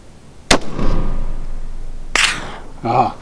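A Savage 10 rifle fires a single loud, sharp shot at long range, followed by a lingering rumbling echo; a second sharp crack comes later, then brief talk.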